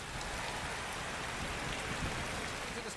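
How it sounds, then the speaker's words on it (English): Steady, hissing rainfall at the Sachsenring circuit in Germany in the MotoGP 20 video game, a dense, even wash of drops that holds at a constant level from start to finish. "despite the rain you can see coming down"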